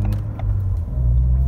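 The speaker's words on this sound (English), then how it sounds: "You'll get to see the car accelerate here in a second" A Ford Fiesta ST with an X47 upgrade, running on race gas, accelerates up an interstate ramp. The engine gives a low, close, steady rumble that swells toward the end, with faint clicks on top.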